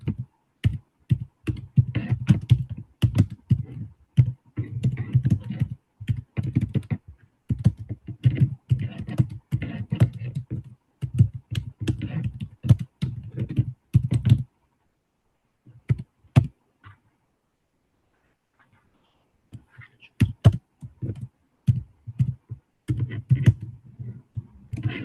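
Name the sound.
typing on a computer keyboard in Notepad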